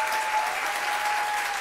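A television studio audience applauds, a dense and even wash of clapping that holds steady and loud the whole time, with no voices over it.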